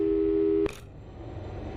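In the video game Portal 2, a telephone busy tone sounds as a steady, loud beep and then cuts off abruptly with a click. Quiet background hum follows, with no one talking.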